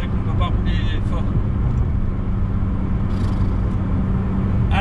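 Ferrari 488 Pista engine giving a few light blips of acceleration while driving slowly, a steady loud low rumble filling the whole stretch with brief rises, and voices talking over it.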